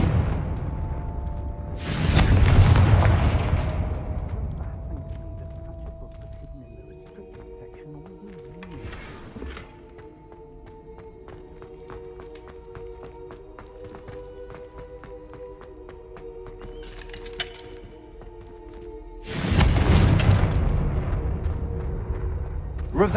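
Confringo blasting spells in the Hogwarts Legacy video game go off as two loud, broad explosive bursts, one near the start and one near the end, separated by quieter game ambience with a steady tonal hum.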